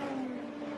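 An Indy Lights race car on the Portland Grand Prix circuit holds a steady, high engine whine for under a second, loud and close, with no voices.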